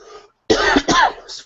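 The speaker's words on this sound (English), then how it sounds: "Fuck this cough." A man coughs twice in quick succession, harsh and close, after a faint breathy sound and followed by a brief throat rasp.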